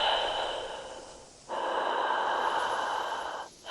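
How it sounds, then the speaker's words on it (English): Slow, deep breathing comes through a phone line, close and muffled, with long drawn-out breaths broken by brief pauses and no talking. "deep breathing."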